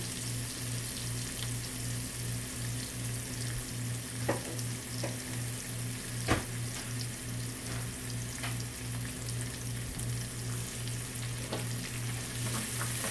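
Onions and green peppers fry in a pan for quesadilla filling, a steady close sizzle with faint crackles and a few brief stirring clicks, no talking.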